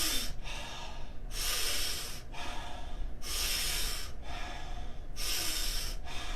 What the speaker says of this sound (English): we're going to be doing is taking about 30 to 50 power breaths into the body, ideally through the mouth